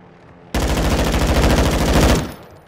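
A sustained burst of LMG fire in a shooter video game, loud and close, rattling as one continuous stream of rapid shots for about two seconds before it cuts off.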